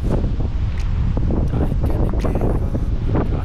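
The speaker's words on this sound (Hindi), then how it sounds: "क्या शानदार हवा चल रहा है यहाँ" Strong wind gusting near Purwa waterfall in Rewa, buffeting the microphone with heavy low rumbles and bursts over a constant roar of rushing water, loud and close.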